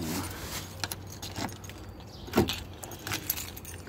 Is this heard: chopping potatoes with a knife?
no